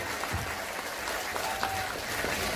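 An audience at a live religious gathering of Banser members in Taichung, Taiwan, applauds in a dense, steady wash of clapping at moderate loudness, with a faint voice briefly underneath.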